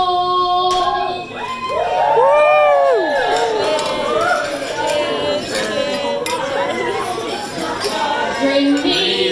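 A packed gay bar fills with loud crowd chatter and cheering voices during a toast, with glasses clinking and people talking over one another continuously.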